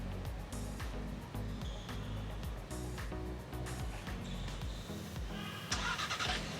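An MG HS SUV starts up remotely via its smartphone-connected system, its engine turning over and settling into a steady, fairly loud idle rumble with a brighter burst of noise near the end.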